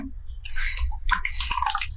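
Water splashes and trickles in short bursts into a mixer jar, close by, with brief clinks and a faint voice in the background.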